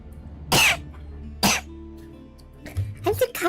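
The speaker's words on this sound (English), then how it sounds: "I'm still coughing a lot." A woman streaming a strategy game coughs twice, two sharp close bursts about a second apart, followed by a brief throat-clearing and some soft voiced sounds.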